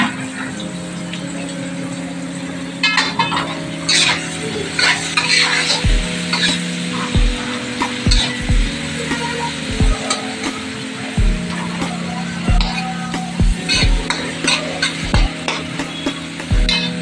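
Onions frying in a pan with a steady sizzle, punctuated by repeated scraping stirs and spatula knocks against the pan, close and fairly loud, music faintly underneath.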